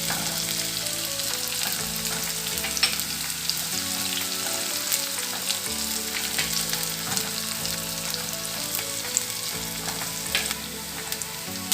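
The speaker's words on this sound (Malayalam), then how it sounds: "ഒരു 4 പച്ചമുളക് ചെറുതാക്കി അരിഞ്ഞത് ഇട്ട് കൊടുക്കുന്നു." Finely chopped green chillies fry in hot oil in a pan for bread upma, giving a constant close sizzle with light stirring, while soft steady background music runs underneath.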